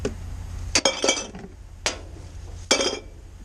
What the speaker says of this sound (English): The cans are gonna have to go into the trash.